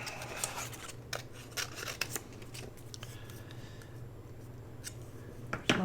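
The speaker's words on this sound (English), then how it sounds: "There's my little scissors." Small scissors snip a blue paper butterfly out of scrap paper for a junk journal. Several quiet, crisp snips come at irregular intervals, close by, over a faint steady room hum.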